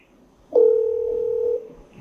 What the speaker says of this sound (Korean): 네, 전화 연결됐습니다.